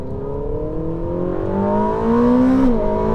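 2023 Ferrari SF90 XX accelerating flat out at the Fiorano track, its engine note climbing steadily in pitch through a gear and then dropping sharply at a shift, loud and sustained.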